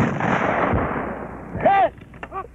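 WWII 37 mm anti-tank gun firing at a concrete target, a loud, deep boom that rolls off, followed by a shouted command and short voice bursts.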